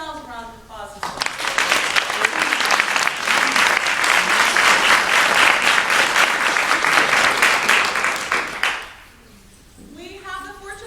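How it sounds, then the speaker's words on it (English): Graduation ceremony audience breaks into loud, dense applause lasting several seconds, framed by a speaker's voice before and after as the clapping fades out. "So give yourselves a round of applause as well."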